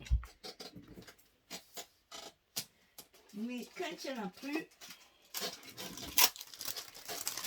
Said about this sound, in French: On colle du scotch.